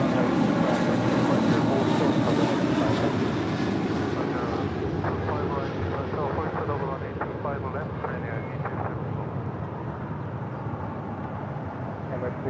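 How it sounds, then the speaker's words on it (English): An Emirates jet airliner departing LAX roars steadily and loudly at a distance, its broad rumble slowly fading, while radio voices talk over it. "That was Emirates Flight 216 Super departing to"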